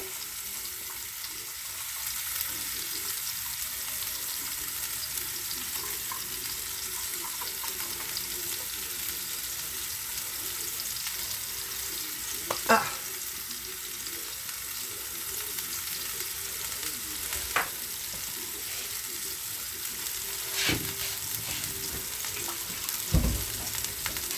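Ground beef and garlic frying in a pan, a soft steady sizzle with occasional sharper clinks and scrapes of a utensil against the pan.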